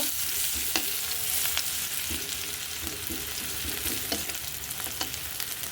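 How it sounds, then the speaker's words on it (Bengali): Onions frying in oil in a pan for a katla fish and potato curry, a continuous close sizzle broken by repeated clicks and scrapes of a stirring spoon. "পেঁয়াজটা ভাজিয়ে নেব।"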